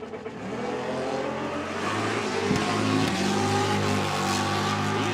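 A drag racing bagger motorcycle launches and accelerates hard through its gears at a drag strip, a loud sustained engine roar with rising pitch as each gear pulls, heard fairly close.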